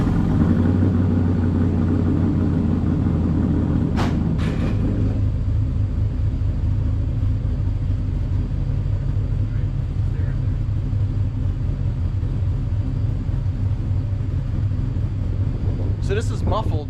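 A car engine idles through a single 3-inch muffled exhaust with a steady, deep, muffled rumble that holds evenly throughout, with a couple of brief sharper clicks.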